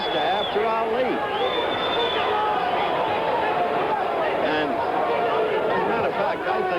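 Restless crowd at a Muhammad Ali versus Alfredo Evangelista heavyweight title fight, a steady roar of murmuring and calls filling the arena, heard under a commentator's talk.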